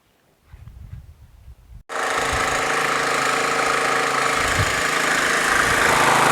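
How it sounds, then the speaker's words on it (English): A Troy-Bilt Super Bronco riding mower with a 42-inch deck, its Intek engine needing carburetor adjustment, gives a low rumble and then jumps into a loud, steady, close roar that holds without a break. "Starts up fine, and mower deck actually works, but it may need a little bit of carb adjustment."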